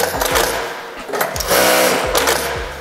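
A JACK A8 industrial sewing machine runs at high speed, stitching long fabric in a rapid, loud, close whir with the motor speeding up and easing off in short surges.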